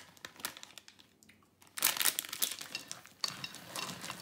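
Whole chocolate eggs are folded into Easter cookie dough, giving soft, irregular crinkling and crunching close up, with a quiet pause before louder bursts of mixing.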